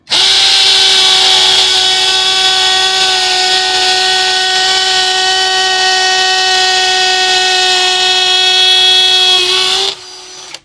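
A 13 mm HL BCID 813 cordless impact drill on a 2Ah battery, set to hammer mode, bores into concrete with a loud, steady, high whine that runs unbroken for about ten seconds before cutting off.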